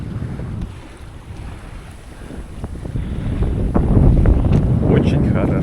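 Strong wind buffets a sailboat sailing solo on open water between Chesapeake Bay and New York, roaring loudly against the microphone with water rushing beneath the hull, and growing stronger as the clip goes on.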